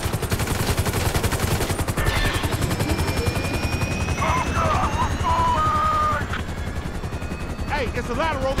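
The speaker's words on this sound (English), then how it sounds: "We ain't going nowhere with that chopper on us." A helicopter's rotor in GTA 5 beats steadily and loudly throughout, with bursts of gunfire and other game effects layered over it.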